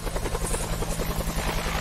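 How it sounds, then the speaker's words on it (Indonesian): Helicopter in the co-op video game Chained Together, a steady loud rotor thrum with rhythmic blade chop and a constant hum, running alone throughout. "Helikopter, helikopter."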